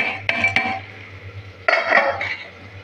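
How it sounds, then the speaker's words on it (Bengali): Soaked rajma and chana dal tipped into a steel pressure cooker in a home kitchen: two quick metallic clinks, a pause, then a longer clattering rattle of beans and metal, close and fairly loud. "ভালোভাবে ধুয়ে এটাকে আমি প্রেসার কুকারে দিয়ে দিচ্ছি"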